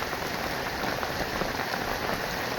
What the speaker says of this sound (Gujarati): વરસાદ